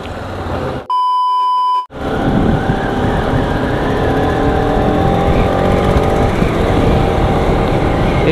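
A motorbike rides across the sand of Nagaon beach near Alibag. A steady, loud engine drone rises and falls with the throttle after a short electronic beep tone at the start.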